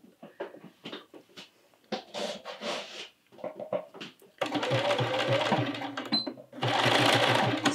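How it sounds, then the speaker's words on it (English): A sewing machine stitches the neckband onto a Hemlock top in two loud, rapid whirring bursts, separated by a short pause, after quieter handling sounds and brief talk. "Sew a few stitches in back tack"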